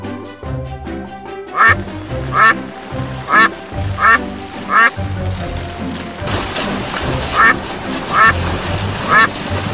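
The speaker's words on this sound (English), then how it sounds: "D for duck." A duck quacks in a series of loud, distinct calls spaced about a second apart over a steady musical backing, with no talking.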